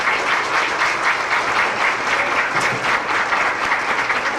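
Parents clapping at a school keynote address, loud dense applause from a crowd in a hall, steady throughout with no speech over it.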